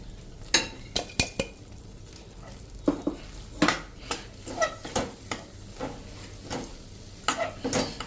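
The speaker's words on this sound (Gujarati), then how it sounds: "આપણો લોટ ગરમ છે ને એમાં જ આ બધું આપણે શેકાઈ જશે" A dry fruit powder is stirred into hot flour in a pan for gund sukhdi, the spoon scraping and tapping the metal in repeated close, fairly loud strokes over a soft sizzle.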